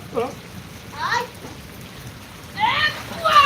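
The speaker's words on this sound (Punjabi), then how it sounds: "ਮੀਂਹ ਆ ਗਿਆ ਮੀਂਹ ਚਲ ਗਿਆ" Rain falls with a steady soft hiss while voices, including a child's, speak in short bursts over it.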